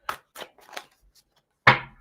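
Tarot cards riffled in two quick bursts during a reading, each a short papery flutter with a brief pause between, close and crisp.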